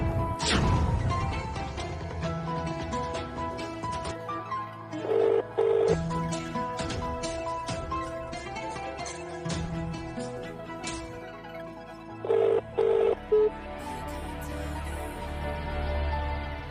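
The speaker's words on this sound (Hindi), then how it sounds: "ये मेहता कहाँ चला गया? फोन क्यों नहीं उठा रहा है?" A telephone rings and goes unanswered, sounding in two short bursts of repeated ringing partway through and near the end, set against loud, dramatic background music with heavy hits.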